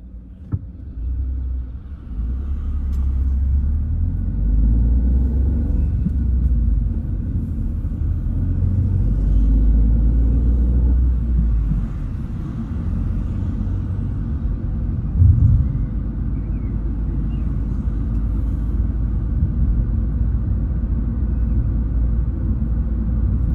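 A car driving along a European road heard from inside, a steady loud low rumble of engine and tyres that holds throughout with no talking.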